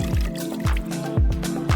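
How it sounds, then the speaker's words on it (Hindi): Red wine poured over meat in a pan, with repeated wet glugging drips and gurgles recurring in a steady rhythm, close and moderately loud. "ऊपर रेड वाइन डालेंगे।"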